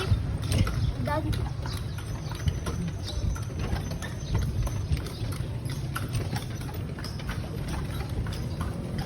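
Horse hooves clip-clopping on a street in Vigan City, Ilocos Sur: steady rhythmic hoof strikes, close and clear, with people talking over them.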